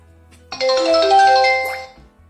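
An incoming call ringtone sounds on a phone linked to an Anbiux V5 WiFi camera, a single bright melodic chime swelling and fading over about a second and a half, loud and close above a low hum.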